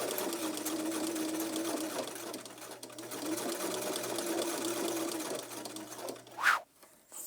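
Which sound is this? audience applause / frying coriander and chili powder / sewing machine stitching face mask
sewing machine stitching face mask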